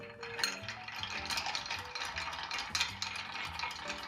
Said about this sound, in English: Okay, we need ice. Quick stir, 45 seconds.